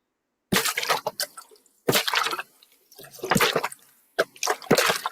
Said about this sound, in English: and watch the waves roll in